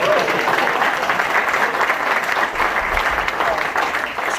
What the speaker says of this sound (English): Let's give Raella another round of applause